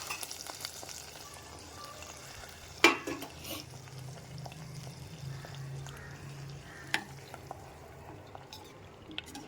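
Rava payasam with chana dal, jaggery and raisins being stirred in a pot, soft continuous simmering under occasional sharp scrapes and clinks of a spoon against the vessel, fairly quiet and close.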